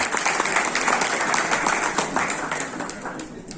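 Audience applause at a national alumni meet in Delhi, a sustained crowd clapping at moderate volume that gradually fades toward the end.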